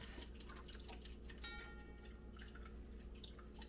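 Natural egg dye liquid drips from a lifted strainer: faint, scattered small drips and light splashes into a bowl, with soft handling clatter in a quiet room, no voices.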